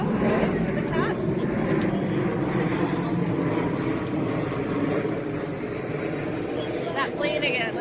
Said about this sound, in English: That plane again.